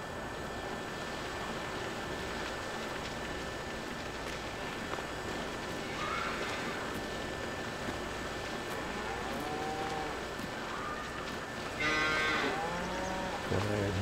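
Cattle moo a few times inside a Farming Simulator 22 cow barn with a feeding robot, the calls fairly distant at first, then a louder one near the end, over steady barn ambience with faint footstep-like sounds.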